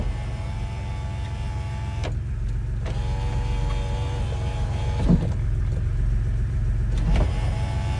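Electric sunroof on a 1987 Porsche 911 Carrera Coupe cycling open and closed: a smooth, steady motor whine inside the cabin with brief clicks where the roof stops and reverses direction, heard alone.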